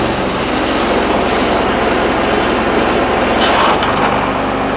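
A HotJet II jet engine runs loud and steady at close range, its broadband roar holding level before shifting and easing slightly as the throttle comes down.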